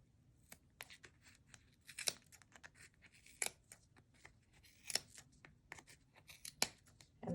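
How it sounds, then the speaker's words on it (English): Scissors snip through yarn threads wound in a Clover pom-pom maker, giving a quiet, close series of crisp, irregular cuts and small tearing snaps. "you're going to want to keep your scissors fairly straight and just cut right through the groove"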